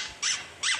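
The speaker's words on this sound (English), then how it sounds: "Mr. Shark looked in the toy box and found me an extra squeaker." A cartoon toy squeaker gives two quick, bright squeaks about half a second apart, clear and isolated with no talk.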